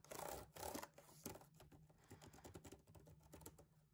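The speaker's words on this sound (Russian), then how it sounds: "Давайте немного послушаем клавиатуру." Keys clacking on a cheap budget laptop keyboard, a quick, irregular run of close, soft taps, busier at first and then continuing more lightly.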